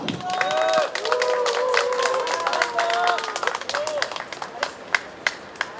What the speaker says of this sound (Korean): 최우상 씨에게 다시 한 번 큰 박수 부탁드립니다